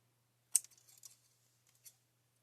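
Scissors cutting paper stamps to size in a quiet craft setting: one sharp snip, then a few soft scattered clicks and a last faint snip, close and isolated.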